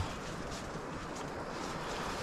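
Strong wind sweeps over a remote wild-camping site, roaring as a constant, loud, broadband rush against the microphone and the large family tent, with no voices heard.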